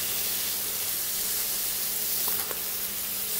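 Beef and lamb fillet frying on a tray with a rack as butter goes in, a steady close broadband sizzle and hiss running throughout with a brief crackle near the end.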